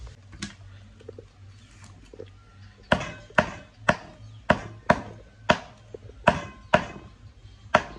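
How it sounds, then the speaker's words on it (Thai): Knife chopping grilled pork on a board, a run of about a dozen sharp, evenly spaced thwacks coming close and loud after a few softer taps, with a low hum behind. "ส่วนอันนี้ก็เป็นย่าง สุกแล้วก็จะมาหั่นกัน"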